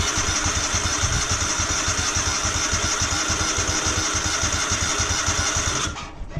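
A V-twin engine on a Wheel Horse garden tractor runs steadily at a close, loud idle with an even pulsing throb, still cold after starting, then cuts off abruptly near the end.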